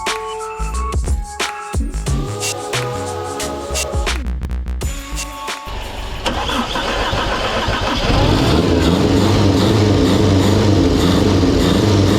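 A Toyota 7K turbo engine cranks, catches on its first start and then runs loud and steady, its roar filling the space close by.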